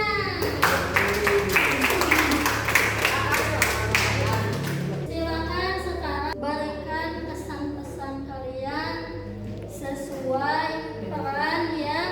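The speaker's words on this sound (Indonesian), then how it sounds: "Tepuk tangan." Classroom applause, a burst of clapping from students lasting a few seconds before children's voices and talk take over.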